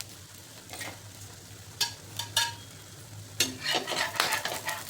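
Pumpkin thalipeeth, a flat fasting flatbread, fries in oil in a covered pan, giving a low steady sizzle with a few brief clinks and stirring sounds, quiet and close, with no talk.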